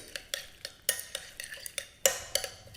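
Food seasoned with a pinch of pepper is stirred in a pan, a utensil clicking and scraping against the metal in a quick, uneven rhythm of sharp taps, close and quiet.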